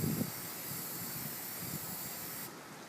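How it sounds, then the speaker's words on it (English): Quick dry black enamel spray paint hisses steadily from an aerosol can in one continuous close burst lasting a few seconds, then cuts off abruptly. "hit it with quick dry black enamel spray paint"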